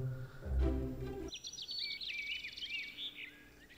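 Ambient birdsong in the golf video game Golf It!, a series of bright chirps and trills that follows a short low thump, steady and moderately close.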